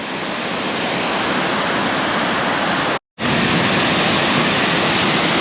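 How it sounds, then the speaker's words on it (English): Steady broadband rush of a small waterfall pouring hard, loud and continuous from near, with a brief cut in the middle. "It's not a bad little waterfall, actually."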